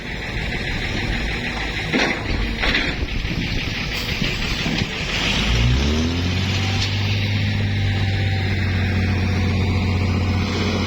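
A black six-wheel truck passes close by at a burst reservoir site, its engine rising to a steady low rumble with a rolling drone that holds to the end, over wind noise.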